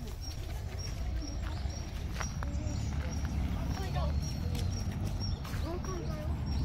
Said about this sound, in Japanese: たっちゃん、まっちゃん、鳥さんおるよ